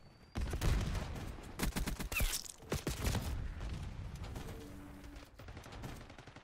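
Gunfire in the shooter Black Ops 6, with dense bursts of shots from a small-calibre SMG crackling in quick succession, loud and close, tapering into sparser sounds toward the end.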